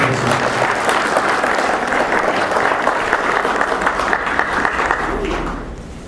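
A church congregation stands and applauds Jesus at the end of a sermon, a dense, loud, steady clatter of many hands that holds for several seconds before tapering off at the close.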